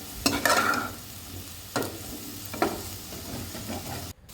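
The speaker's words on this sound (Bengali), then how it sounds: "এবার এই আলুর মধ্যে সামান্য হলুদ গুঁড়ো দেবেন এবং হলুদ গুঁড়োর সঙ্গে আলুটাকে খুব ভালোভাবে মিশিয়ে ভাজতে থাকবেন।" Potatoes tossed with turmeric powder are stirred in a pan, with a few scraping stirs punctuating a steady soft sizzle of frying, close and moderately loud.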